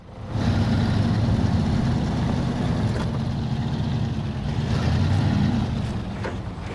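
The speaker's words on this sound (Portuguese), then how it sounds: "o som dos motores é aquele que mais predomina durante todo o trabalho" Heavy truck engines in the video game SnowRunner drone continuously at a steady low rumble, loud and close, with no pauses throughout.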